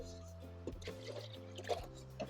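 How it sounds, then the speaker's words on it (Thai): Water is poured into the tank of a Seagull hot water dispenser, making soft gurgles and splashes over a steady low electrical hum. "เดี๋ยวผมเทน้ำตรงนี้ เติมน้ำไปเข้าไปใหม่นะครับ"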